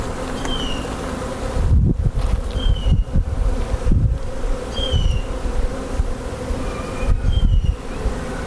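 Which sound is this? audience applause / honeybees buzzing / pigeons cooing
honeybees buzzing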